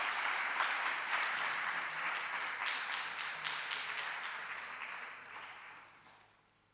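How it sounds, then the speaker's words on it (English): Audience applause after an inspirational talk on human values at a National Easwaramma Day gathering, a steady broad wash of many hands clapping that holds for several seconds and then fades away. "can we give her a huge round of applause?"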